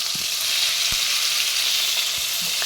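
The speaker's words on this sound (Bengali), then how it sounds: "পটলগুলোকে একটু ভেজে নিচ্ছি পটলগুলো আমি হালকা হালকাভাবে ভেজে নেব" Pointed gourd pieces fry gently in a pan, a steady close sizzle of oil with a few soft scrapes and taps as they are turned.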